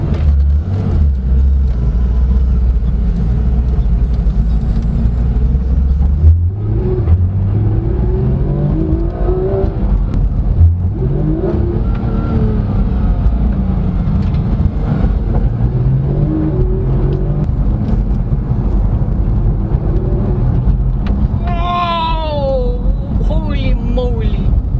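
A 2016 Porsche 911 GT3 RS (991.1) engine comes onto the throttle from inside the cabin, a steady low drone that swells with pitch sweeps as revs climb, a driver speaking throughout over the engine.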